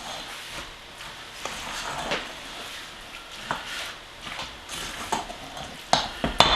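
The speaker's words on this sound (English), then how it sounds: "I still see a few dry spots in the hash browns, so I'm going to keep mixing it." Cheesy hash brown casserole is stirred and folded in a bowl, wet squelching scrapes with irregular louder clicks of the utensil against the bowl, close and moderately loud.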